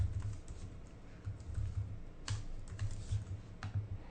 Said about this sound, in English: you may have noticed when I was typing